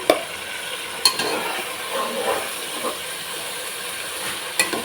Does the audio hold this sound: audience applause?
no